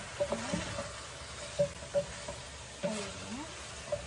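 A spoon scrapes and clinks against a pan as salt and black pepper are stirred into a dish, with a faint sizzle underneath; several distinct knocks spaced irregularly, close and clear, no talking.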